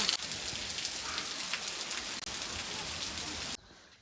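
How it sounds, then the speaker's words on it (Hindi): Heavy rain pours down steadily in a mountain setting, a dense, loud, even hiss of drops on surfaces that holds for about three and a half seconds before cutting off abruptly. "अब बारिश भी जोरों शोरों से हो गई है।"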